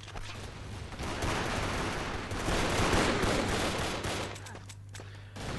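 Pistol fire in the first-person shooter video game Brick Force, a dense, loud stretch of rapid gunshots and battle noise with a steady low hum underneath, continuing throughout.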